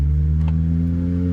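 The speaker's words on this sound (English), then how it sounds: "Hear that exhaust." A Lotus Elise exhaust drones steadily and close with a deep, even engine tone as the small sports car accelerates, with no talk over it.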